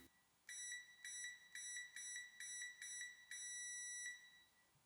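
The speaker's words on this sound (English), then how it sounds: "Continuity test gives an instant beep." A UNI-T UT81D+ multimeter continuity test emits a tonal electronic beep in quick repeated bursts, then one longer sustained tone, clear and close against a quiet background.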